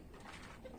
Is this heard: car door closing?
no